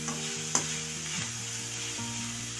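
Vegetables for restaurant-style fried rice stirred in a heavy-bottomed pan over full flame: a steady sizzle runs throughout, with scraping stirs and one sharp clank of the spatula against the metal.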